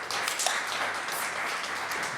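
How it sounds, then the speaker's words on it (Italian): Dense, steady applause from an audience at an Italian alumni desk show, the many hands clapping as one continuous wash of sound for a couple of seconds. "Applauso."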